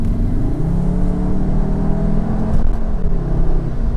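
A Cupra Formentor 2.0 TSI 4Drive (310 hp) engine revs steadily up close, its pitch rising and falling in a loud, throaty drone with a faint whir.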